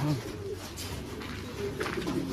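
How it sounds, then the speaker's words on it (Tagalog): Soft pigeon cooing repeats in low, throaty phrases against a faint outdoor background, fairly close by. "May nalaglag tayong isang ibon"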